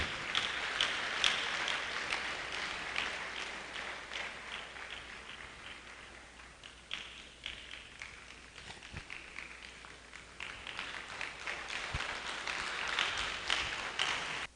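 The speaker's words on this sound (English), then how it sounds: "Please put your hands together for pharmacist Anukam as she makes her way to the podium. Let's keep clapping until she gets here." Audience applause for pharmacist Anukam at a Nigerian university valedictory lecture, a sustained wash of clapping that swells and fades over the stretch, with a few sharper claps and shuffling footsteps mixed in.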